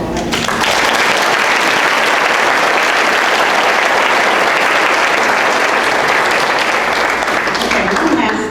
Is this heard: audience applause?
yes